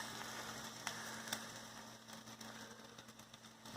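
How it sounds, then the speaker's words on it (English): Spam and eggs frying in a pan give a faint, soft sizzle with scattered small pops and crackles over a low steady hum. "this is my first time cooking spam and eggs together"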